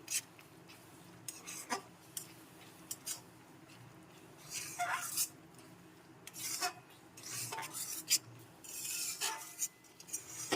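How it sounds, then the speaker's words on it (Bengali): Potato curry with cashew and melon seed paste is stirred in a pot, quiet scraping and clinking strokes of a spoon against metal coming in irregular bursts, close and soft. "দিয়ে দিচ্ছি এর মধ্যে কাজু আর চার মগজের পেস্ট আবার একটু ভালো করে নেড়ে চেড়ে নিচ্ছি"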